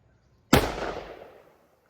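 A single sharp, loud gunshot from a .44 Magnum revolver with a 4-inch barrel, firing 210-grain bullets over H110 powder, cracks suddenly and rings out in a decaying echo over about a second, with no talking.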